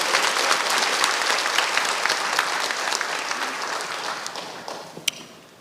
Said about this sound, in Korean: 우리 뜨거운 박수로 강사 목사님 모셨습니다